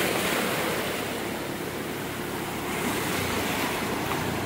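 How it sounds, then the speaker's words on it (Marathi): Strong sea waves surge onto a Konkan beach at high tide, a loud, continuous roar of surf mixed with wind buffeting the microphone. "बापरे, प्रचंड वेगाने लाटा येत आहेत"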